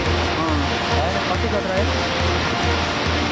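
Loud, steady roar of water rushing through the Koshi River barrage in Nepal, a continuous broadband wash, with people talking over it.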